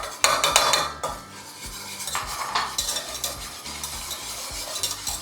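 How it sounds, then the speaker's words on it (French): A spoon stirring cornflour into cold milk in a pan, with quick repeated scraping and clinking strokes against the metal, close and fairly loud, no voices. "Dans le lait froid, ma maïzena. Je la dilue."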